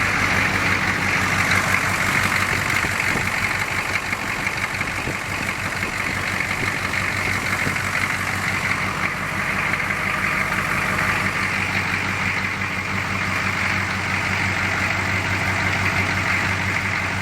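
A diesel Squarebody Chevrolet Suburban, an old and noisy truck, idles close by with a steady low rumble and constant mechanical clatter, unbroken and without voices for the whole stretch.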